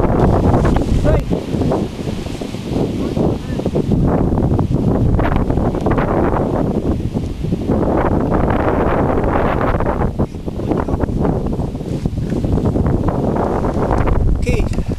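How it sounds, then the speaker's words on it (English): Strong wind buffets the microphone aboard a sailboat during high-wind safety drills, a loud, gusting roar that swells and dips in waves across the whole stretch, with water and boat noise blended underneath. "the wind's picked up a bit"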